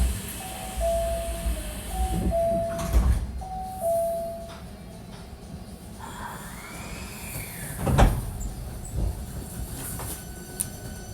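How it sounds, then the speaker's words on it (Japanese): Hankyu 1300 series train at a station near Kita-Senri: chimes and mechanical clunks as the doors close, with a thud, hiss and rumble of the carriage around it, no voices. "扉が閉まります。"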